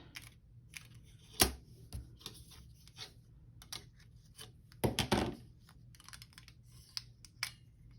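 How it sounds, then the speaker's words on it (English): Scissors poke a die-cut shape free from a Big Shot die-cutting machine, giving irregular small clicks, taps and crinkles close by, with a few louder bursts near the middle and quiet gaps between. "poke it with my scissors"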